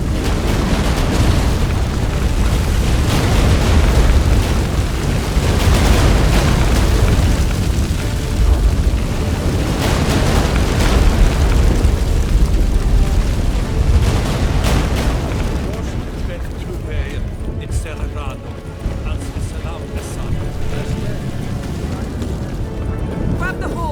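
Deep earthquake rumbling mixed with booming explosions in The Witcher 3 as a ship breaks apart, loud and sustained for most of the stretch, then easing into a quieter rumble near the end, with voices talking over it.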